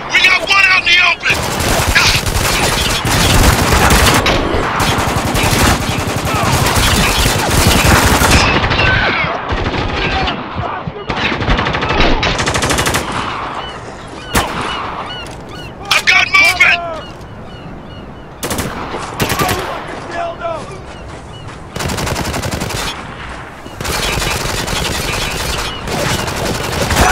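Loud gunfire in the war shooter Spec Ops: The Line, with dense machine-gun bursts and single shots in rapid volleys, some distant booms, and shouted combat voices over the shooting.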